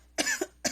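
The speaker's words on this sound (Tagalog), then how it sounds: "Teka, inuubo ho bang inay?" A mother coughs twice at close range: a short, rough burst, then a second harsh cough after a brief pause, with no talking.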